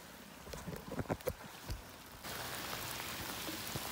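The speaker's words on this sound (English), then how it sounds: "Rain" Steady rain falls on the surface of a lake, a dense even hiss that swells up loud and constant in the second half after some scattered nearby knocks and splashes.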